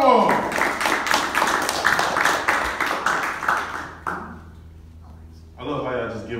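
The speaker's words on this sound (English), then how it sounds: "I love how y'all just give up clapping like right in the middle." Comedy club crowd at an open mic in Dallas claps loudly with dense applause, then it thins and trails off midway, leaving near quiet before a voice speaks at the end.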